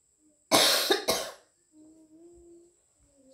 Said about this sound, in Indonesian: Kamu jadi batuk sih.